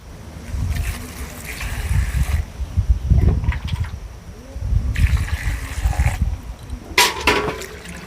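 Thankuni leaves are washed by hand in water, with repeated splashing and sloshing that swells and fades in waves and a brief sharper splash near the end.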